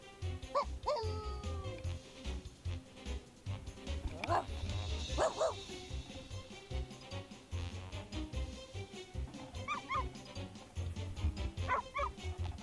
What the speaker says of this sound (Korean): 이리저리 뛰어다니는 강아지들